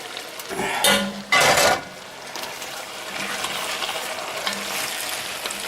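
Carrots and celery tip into a sizzling pot for clam chowder, two loud bursts of clatter and splash up front, then a steady frying hiss with faint scraping.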